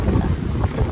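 Strong wind on Fujairah beach during stormy weather, buffeting the microphone as a loud, continuous low roar that lasts the whole moment with no other sound standing out.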